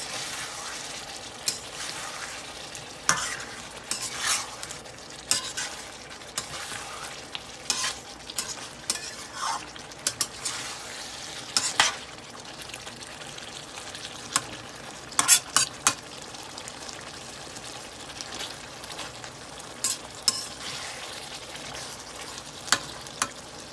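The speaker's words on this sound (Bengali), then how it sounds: "এখন একটু কষিয়ে নেবো ডিমগুলো পুরো" Eggs for an egg curry are sautéed in a frying pan, a soft continuous sizzle under frequent sharp scrapes and taps as a spatula stirs them, close by and with no voices.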